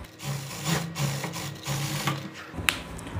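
Stitching trouser seams, a sewing machine hums and chatters steadily at close range in a few continuous runs, with a faint click near the end and no speech.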